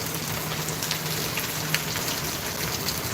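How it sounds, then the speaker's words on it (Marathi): Heavy monsoon rain pours down steadily in a constant dense hiss of drops on surfaces, with no voices. "हे बघा केवढा पाऊस पडतो बघा"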